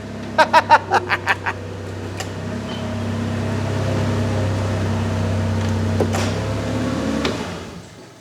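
Cushman Truckster utility vehicle running in high gear, a steady droning engine hum with mechanical whine, preceded by a quick series of sharp clicks at the start.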